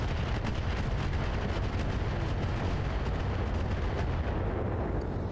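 Mech weapons firing in the Battletech video game make a continuous heavy rumble of booming shots and blasts, loud and dense with no pauses throughout.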